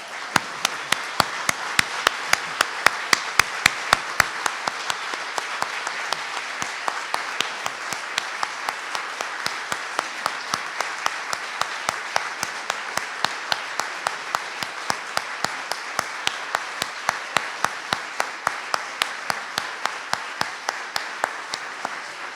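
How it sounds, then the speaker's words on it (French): Conference audience giving a standing ovation, sustained, dense applause from a large crowd for over twenty seconds, with a regular pulse of rhythmic clapping running through it. "je vous demanderai de faire un standing ovation à ses partenaires"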